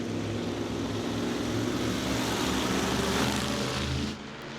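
ISMA MSS Super Modified race cars roaring around Jennerstown Speedway during a 50-lap feature, a dense, loud, sustained engine drone that cuts off near the end.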